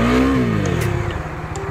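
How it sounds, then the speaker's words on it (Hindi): A Bajaj Dominar 250 motorcycle accelerates on an open road, the engine note climbing in pitch and then settling into a steady, close and loud drone. "तो इस बड़ा रोड में मेरा बाइक को मैं थोड़ा सा भगाऊंगा"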